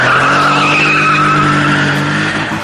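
A car skidding with a steady, loud, high tire squeal over the engine's droning hum, lasting throughout and close by.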